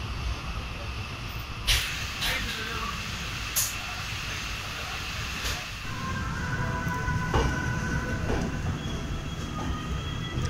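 A sleeper class express train pulls out of a junction, with a steady low rumble of the carriage, occasional sharp clanks and squeals, and faint voices in the background.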